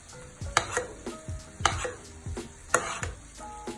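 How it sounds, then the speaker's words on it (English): Ribeye steak is basted hard in a tilted pan, with rhythmic spoon scrapes and clinks against the metal roughly once a second over a soft sizzle, close and without talk. "you're actually going to baste the steak quite hard as well"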